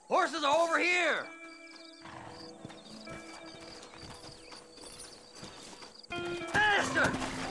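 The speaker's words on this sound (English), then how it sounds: "Horses are over here!" Horses gallop in Red Dead Redemption, hooves clip-clopping in a steady driving rhythm with whinnies and neighs at the start and end, while voices talk over the hoofbeats.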